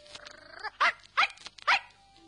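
A little dog barks three times in quick, evenly spaced yaps, close and fairly loud, after a brief soft whine, in an otherwise quiet setting.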